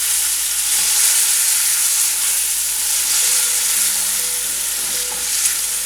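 Onions and tomatoes fry in a pan for bread poha, producing a loud continuous sizzle and hiss with occasional stirring, close and without pause.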